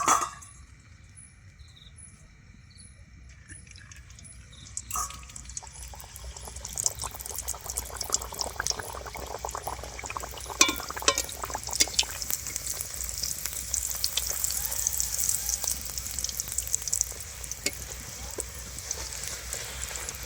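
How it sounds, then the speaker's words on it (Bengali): Pea-filled kachori deep frying in a pan of hot oil, a steady loud bubbling sizzle that swells after a quiet start and continues without pause, with no talking. "আর একটা আমি আপনাদের ভেজে দেখাচ্ছি।"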